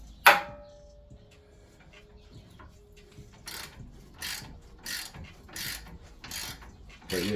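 A ratchet wrench cranking a strut mount bolt on a Ram 1500 front suspension, with one sharp clank, then a steady run of loud, evenly spaced ratcheting strokes close by.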